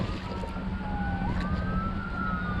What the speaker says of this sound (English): judging by all the sirens in the background